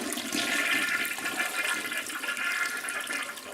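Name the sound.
toilet flushing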